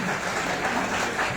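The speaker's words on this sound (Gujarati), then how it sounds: "જોરદાર તાળીઓથી સ્વાગત કરીશું મિત્રો." Audience applause at a teacher appointment-letter ceremony in Vadodara: a steady, dense wash of clapping from a crowd, fairly loud and continuous throughout the short moment, with no voices on top.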